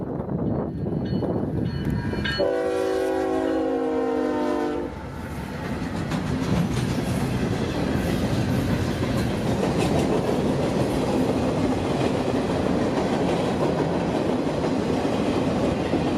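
A train sounds a loud horn blast, then a heavy freight train rumbles steadily past nearby through a siding with continuous rolling clatter.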